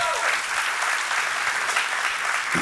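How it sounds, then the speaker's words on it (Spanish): A church congregation breaks into loud, sustained applause during a bilingual Spanish-English sermon, a thick wash of hands clapping throughout with no talking on top. "Dale a Dios un aplauso."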